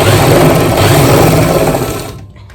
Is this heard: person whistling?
no